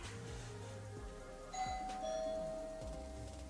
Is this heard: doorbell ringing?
yes